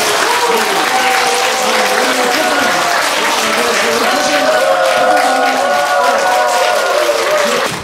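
An audience at a traditional Korean music recital in a small theater at Changdeokgung gives loud, dense, sustained applause, with voices and a tonal layer running underneath the whole time.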